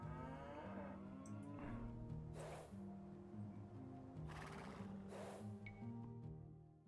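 Cattle low several times in the strategy game Age of Empires II: Definitive Edition, with drawn-out moos over a steady game music bed and no talk.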